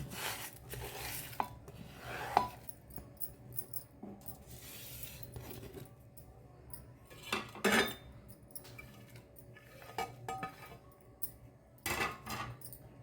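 Chicken marinade of fried potatoes, green chillies, coriander, yogurt and oil being mixed in a bowl, with quiet scraping and clinking of a spoon against the dish and soft rubbing, coming in intermittent bursts close by.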